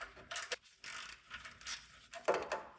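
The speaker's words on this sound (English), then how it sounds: "now hopefully I can back this one out with this quarter drive" A quarter-inch drive ratchet backs a long bolt out of a 1994 Chevy K1500 front suspension, giving several bursts of quick clicking pawl strokes separated by short pauses, close and fairly quiet with no talk.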